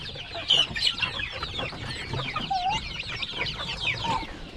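Chickens and young chicks cluck and peep close by at a rural hut, kept alongside a turkey; a steady overlapping chorus of clucks with brief higher chirps, no talk.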